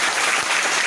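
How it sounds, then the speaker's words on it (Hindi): An audience at a solar business webinar breaks into brisk, dense applause, a loud steady patter of many hands clapping together. "आपकी शानदार वाली ताली एक सिस्टम के लिए हो जाए"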